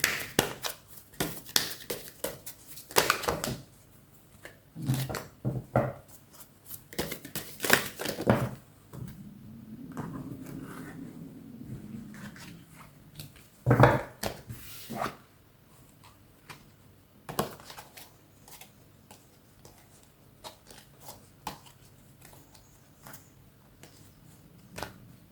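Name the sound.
shuffling and drawing tarot cards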